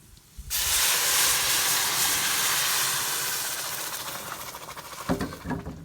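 A loud sizzle bursts in after a moment of quiet and hisses steadily as rice fries in a hot pan until it starts changing color, with a few clinks near the end.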